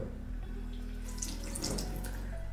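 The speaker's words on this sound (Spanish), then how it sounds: "Voy a agarrar este algodoncito, este pad reutilizable, lo voy a mojar con agua." Water runs from a tap as a reusable cotton pad is wet at a sink, a soft close splash and trickle at low level.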